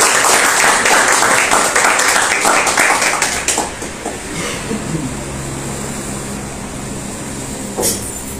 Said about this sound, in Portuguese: Uma salva de palmas para a palavra do Senhor.